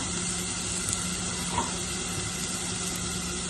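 Chopped ginger, garlic and curry leaves sauté in a pan for a Kerala-style roasted soya chunks dish, giving a steady, moderate sizzle that runs throughout with faint stirring ticks and no talk.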